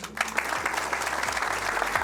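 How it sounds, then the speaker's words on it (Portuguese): Audience applause after a talk on tax reform, a steady mass of clapping hands at moderate level, with a low hum running underneath. "uma salva de palmas para vocês aqui"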